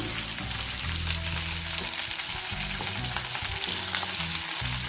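Ingredients for a cluster beans chutney, including coconut and salt, fry in a pan with a steady close sizzle and occasional stirring scrapes over a continuous low hum, with no talking.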